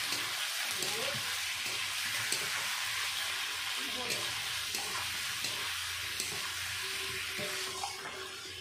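Fried potatoes and ground green chilli go into a hot pan for a thin rui fish curry made without onion or garlic. A loud, steady sizzle runs throughout with faint stirring scrapes.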